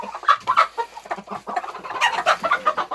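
Roosters and hens cluck in the evening, a busy near flock making repeated short clucks and squawks in uneven bursts, with no talking.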